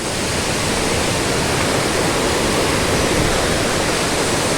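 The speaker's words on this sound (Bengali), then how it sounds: "আমাদের সাথে সাথে কিন্তু এই ঝর্ণাটা চলছে" A waterfall at Ganga Maya near Darjeeling pours in a steady, loud, rushing roar. The broadband wash holds constant without pause, and no voices are heard.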